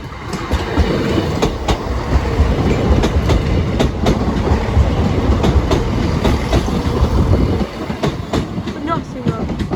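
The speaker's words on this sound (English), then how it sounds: "And here comes the train." Train running through Sleaford East level crossing, loud and close, a steady heavy rumble of rail cars with rhythmic clickety-clack wheel beats throughout, briefly easing near the end.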